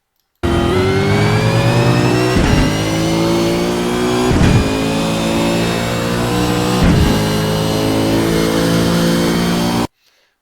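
A race car engine howls through a lap of Imola, loud and close, its pitch climbing steadily through the gears, with brief sharp dips at each upshift.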